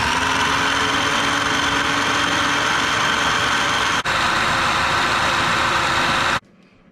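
A food processor whizzing baba ganoush with confit garlic, a loud steady motor whir with a brief dip near the end before it cuts off abruptly, no talk.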